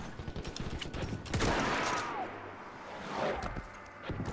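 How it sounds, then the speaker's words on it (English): Artillery fire in the Mount & Blade Parabellum battle game, with scattered sharp gunshot cracks followed by a louder rolling blast and another muffled boom, a chaotic battlefield din. "Artillery!"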